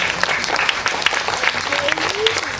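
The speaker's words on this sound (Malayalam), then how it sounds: "എല്ലാവരും ഒന്ന് കൈയടിക്കൂ." An audience claps loudly and continuously at a cultural meeting during the Sree Virad Vishwabrahma temple festival in Pampady, a dense burst of applause throughout.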